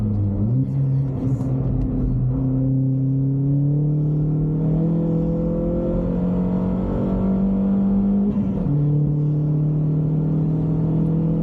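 An Astra VXR car is driven on the Donington Park race track during a track day. The engine drones loud and steady from inside the car, its pitch climbing and then dropping back, with a constant road rumble underneath.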